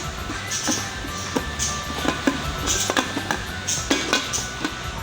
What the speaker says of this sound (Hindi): अब प्रेशर कुकर बंद कर रहे हैं।